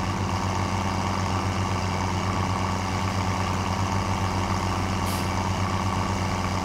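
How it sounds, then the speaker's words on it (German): A tractor pulling a cultivator in Farming Simulator 17: a steady, droning engine hum runs at an even pitch throughout, with one brief faint high click near the end. "Ich fahre jetzt erstmal mit dem Grubber da hinten hin, dann grubbert er mit"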